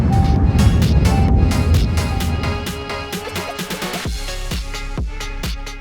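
A 2025 Skoda Octavia RS with a 2000cc turbo petrol engine runs flat out on a race track, its loud engine roar rising and then cut as the car brakes hard, leaving a rougher pulsing drone near the end.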